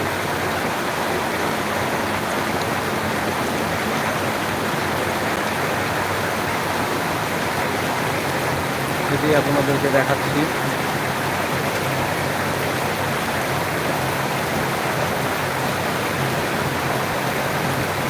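Heavy monsoon rain falls at night at Beharpur Bazar in Bagatipara, Natore, a dense steady roar throughout, with someone speaking briefly midway.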